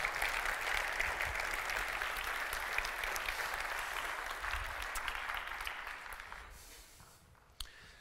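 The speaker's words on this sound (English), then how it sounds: "give yourselves a really great round of applause" An audience at a maritime conference's closing plenary gives a long, even round of applause that gradually thins and fades out toward the end.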